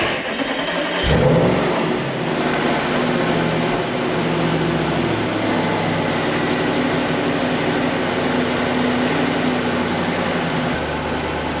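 An Audi B8 RS4 out on a test drive gives a steady engine and road drone from inside the car, with a sharp knock early on and a constant low hum throughout.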